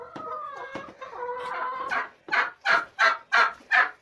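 Young Zagorsk hens in a coop give a few drawn-out calls, then five sharp, evenly spaced clucks, close and loud.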